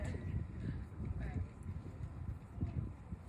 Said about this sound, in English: It's really windy, sorry.